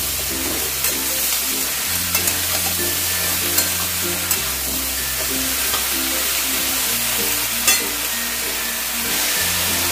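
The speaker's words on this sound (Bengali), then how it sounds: "ডাঁটা বাদে আমি সমস্ত সবজি দিয়ে এবার বেশ খানিকক্ষণ নাড়াচাড়া করে নেব।" Vegetables for Bengali shukto stir-fried in a pan, a loud continuous sizzle with repeated scraping and clattering of a spatula moving the pieces around, no voices.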